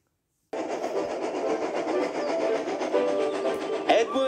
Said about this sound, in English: They chuff gently into the station.